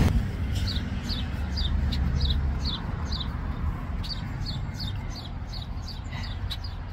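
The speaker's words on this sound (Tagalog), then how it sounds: "Parang ibon yung nasa taas doon," A bird calls repeatedly near a nest on a billboard, a series of short, evenly spaced chirps heard over steady low outdoor rumble and wind.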